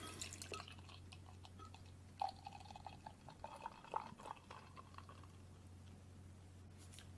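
Barrel-aged coffee stout at 10% strength is poured quietly into a glass, with soft, faint liquid trickles and gentle drips over a low steady background hum.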